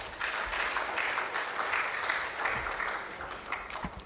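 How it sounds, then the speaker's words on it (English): Sustained audience applause fills the room after a woman finishes her address at a regional conference on women, peace and security, a steady dense wash of clapping that holds for several seconds without talk. "A round of applause for her as she makes her way to her seat."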